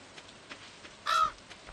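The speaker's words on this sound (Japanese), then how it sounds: "カラス、こら、お前。" A single short, sharp crow caw rings out in the farming game Stardew Valley, loud and close, amid faint soft background ticks.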